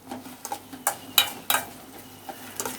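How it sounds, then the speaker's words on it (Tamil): Pineapple pieces with sugar stirred in a pan for fruit kesari, a series of close, quick scraping and tapping strokes of a spoon against the pan with a soft sizzle underneath. "இது எல்லாத்தையும் நல்லா ஒன்றா மிக்ஸ் பண்ணிக்கோங்க"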